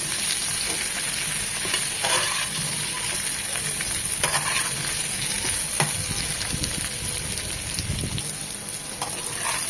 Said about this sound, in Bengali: জাস্ট 2 থেকে 3 মিনিট একটু ভাজবো, কড়া করে ভাজবো না